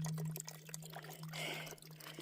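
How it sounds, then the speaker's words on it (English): A small spring trickles out of a rock on a mountain hiking trail, giving a faint, steady burble and splash with a low background hum. "Look at this little water source"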